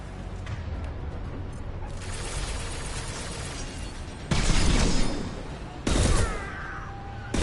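Gunfire in a video game: a dense, continuous rattling of shots that builds, then two loud, harsh bursts with sharp onsets, each followed by a brief tail.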